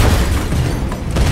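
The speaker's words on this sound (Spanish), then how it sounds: "¿Muchas explosiones? ¿Más explosiones que antes o qué?" Explosions in the post-apocalyptic driving game Dusty Trip, a dense, steady rumble of low booms and bursts filling the whole moment, loud and continuous with no voice over it.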